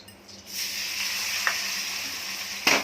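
Ingredients stirred and sizzling in a pan of homemade ghee while making a quick murabba: a soft start, then a steady frying hiss with a clink from a spoon and a sharp scrape at the end.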